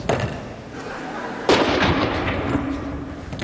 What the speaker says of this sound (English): They was firing off a cannon to make my body rise to the top